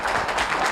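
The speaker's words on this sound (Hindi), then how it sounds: "इनके लिए तालियां हो जाए।" A crowd of schoolchildren claps for a classmate, a brief dense burst of applause heard close and steady.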